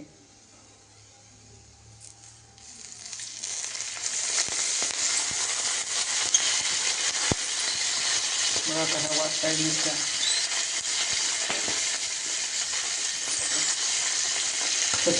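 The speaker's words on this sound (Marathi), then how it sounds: "भाजून घ्यायच्या चांगल्या नंतर त्यावरती तेल सोडायचं" Oil poured over green chillies roasting in a pan starts a loud, steady sizzle and hiss that builds after a quiet start and keeps going, with faint scraping clinks and brief talk underneath.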